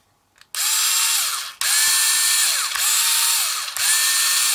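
A Piranha PSD2215 cordless screwdriver runs in several bursts of steady, close motor whine. Each burst spins up sharply, and the bursts come in quick succession with brief dips between them.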